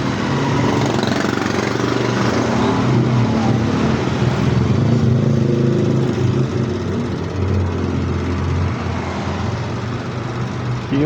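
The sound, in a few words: mini electric fan motor running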